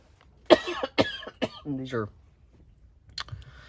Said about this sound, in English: Excuse me a second while I cough.